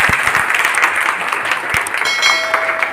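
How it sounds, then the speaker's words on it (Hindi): Audience applause at a network-marketing team meeting on stage, a loud, dense, steady round of clapping from a crowd, close by. "एक बार ताली अपने लिए हो जाए"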